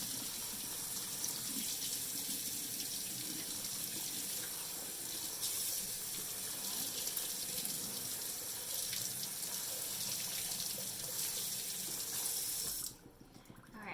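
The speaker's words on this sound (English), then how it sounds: "we're gonna rinse this because they do salt it in a brine" A kitchen tap runs steadily over brined corned beef being rinsed in a sink, a close, continuous rushing splash that holds for about thirteen seconds before cutting off abruptly.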